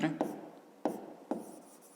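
Pen strokes writing numbers for a fifth-grade maths exercise, a few short scratchy strokes with distinct onsets spaced across the moment, close and fairly quiet, with a faint voice-like hum underneath.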